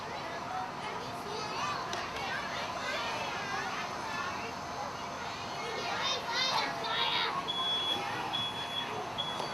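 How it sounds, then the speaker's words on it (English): A smoke detector sounds during a house fire demonstration, its high electronic beeps coming in a short repeating series late on, faint and distant beneath the steady chatter of children and other voices nearby. "So the smoke detector is sounding now at 36 seconds"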